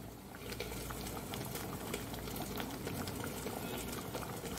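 Mung dal with taro simmering in an open pot on the stove, a steady close bubbling and popping that runs evenly throughout with no voices over it.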